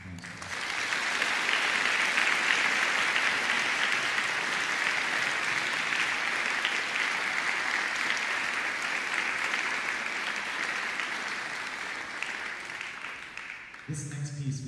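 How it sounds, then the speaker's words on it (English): A concert audience at an academy band concert applauds steadily for a long stretch, a dense wash of clapping that holds level and then tapers off into a voice. "Can we give them a round of applause?"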